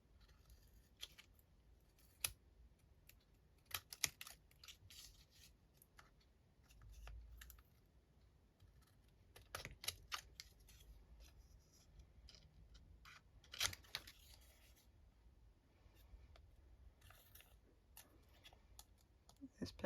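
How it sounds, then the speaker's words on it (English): Scattered snips and clicks of sticky scissors cutting fabric strips, faint and close, in irregular clusters with quiet gaps and soft handling noise between. "This pair of scissors is getting really sticky."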